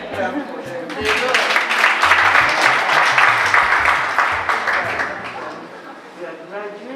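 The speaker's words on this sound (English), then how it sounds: "Parents, let me clap for them." Parents applaud at a PP2 kindergarten graduation at Wanja & Kim Comprehensive School. A dense burst of clapping swells and then fades over a few seconds while voices speak throughout.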